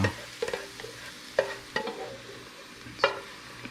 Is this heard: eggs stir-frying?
yes